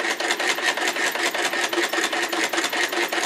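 Hand-crank Singer 99 sewing machine stitching rounded corners, a fast steady rhythmic clatter of the needle mechanism, close and continuous, with no talk.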